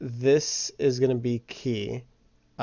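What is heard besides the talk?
No distinct noise like a dog, phone or traffic.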